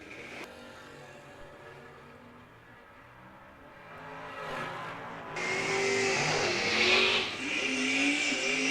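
A 1966 Valiant drag car at a drag racing event roars off the line; the engine note builds from a steady rumble into a loud high-revving run that grows louder toward the end, heard at a distance.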